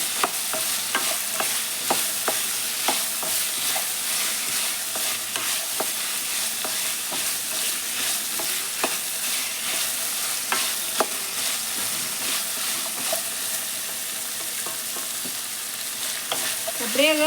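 Ginger garlic paste sautéing in sesame oil for a chicken curry, with a steady close sizzle and repeated scrapes and clinks of a spoon stirring in the pan, no voices.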